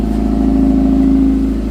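A Subaru WRX STI fitted with a Ganador titanium exhaust idles close by, giving a steady low burble with a faint hum above it, and no voices.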